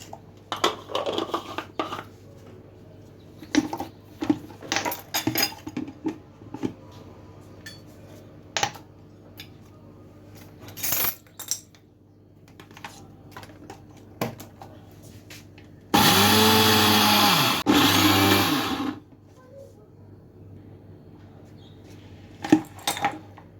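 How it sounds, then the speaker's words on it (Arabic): Sesame seeds are ground in an electric grinder in one loud whirring burst of about three seconds, after scattered clatter of dishes and utensils. "غنطحن هنايا زنجلان دايره قياس، ما نطحنوش كامل باش يطحن معايا مزيان"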